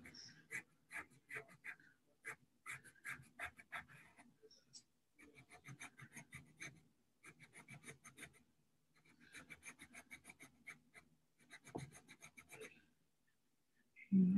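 A pencil sketches feather highlights on paper for a bird drawing, with quick rhythmic scratchy strokes in short bursts separated by pauses, close and quiet.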